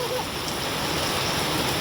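Heavy rain pours down on a road at night, a dense, even rushing hiss of water that stays loud and close throughout.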